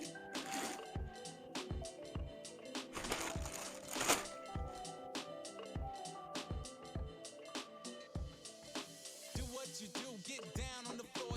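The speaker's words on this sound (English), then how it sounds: "So we'll just take it out of the plastic bag here." A rat prop head is pulled out of a plastic bag, giving close, faint crinkling and sharp clicky rustles in a steady irregular rhythm with no talk.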